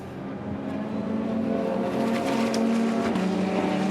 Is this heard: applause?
no